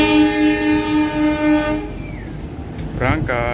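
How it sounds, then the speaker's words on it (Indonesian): Ijen Express passenger train in motion, a long sustained horn blast sounding loud for nearly two seconds, then rumbling running noise with a short whistle-like double tone near the end. "perjalanan kereta api Ijen Express sampai di stasiun Probolinggo"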